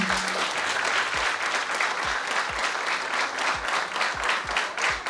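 Steady, dense applause from an audience for medical specialists at a diabetes talk, sustained and even throughout with no speech over it.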